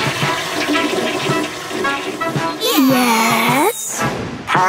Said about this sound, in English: Have you flushed?